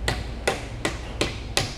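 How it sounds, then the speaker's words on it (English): Five evenly spaced, solid knocks of a mallet tap a print arm into place on a bench-top base, each strike sharp and close with a short ringing tail. "then you're going to want to tap it into place with your mallet"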